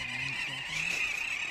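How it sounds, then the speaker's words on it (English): Little auks call from a colony on a basalt-rock mountain slope on Svalbard, a few short honking notes over a constant high chattering wash of many distant birds. "On the slope of the mountain, all covered with basalt rocks, we can see huge amount of little auk birds."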